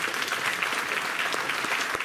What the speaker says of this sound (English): Let's give a big round of applause here for Rod.